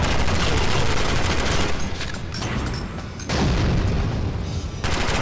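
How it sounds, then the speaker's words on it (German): A grenade blast in the shooter game James Bond 007: Agent im Kreuzfeuer, a loud, dense roar of explosions and rattling gunfire that fills the whole stretch, with only brief dips in the din. "Granate."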